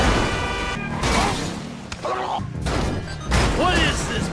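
Loud crunching car smashes and thuds in a driving video game in quick succession, layered over a busy mix of game music and effects.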